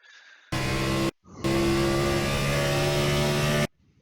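An iRacing race car engine at Watkins Glen, pulling at full throttle in a loud, rising whine, briefly cut by a quick gear change, then screaming on up the straight before falling silent.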